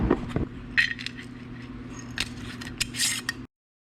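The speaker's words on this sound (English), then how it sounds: "I'm gonna put that in this jar here, and then seal the top on it" Dried ginger tipped into a glass jar with clinks and scrapes of glass, then the lid fitted and sealed, a few close, bright clatters over a low steady hum.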